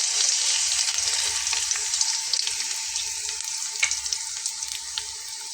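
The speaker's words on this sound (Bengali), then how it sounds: "তার ভেতরে আমি প্রথমে পেঁয়াজ বাটাটাকে দিয়ে নেব।" Onion paste fries in a generous amount of hot oil in a wok, a bright, steady sizzle with occasional crackles and spatters, close and continuous.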